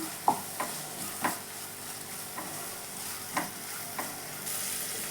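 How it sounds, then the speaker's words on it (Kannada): Onions frying quietly in a pan, a soft low sizzle broken by several distinct scraping stir strokes at irregular intervals, no talking. "ಸ್ವಲ್ಪ ಇದು ಚೆನ್ನಾಗಿ ಫ್ರೈ ಆಗಲಿ"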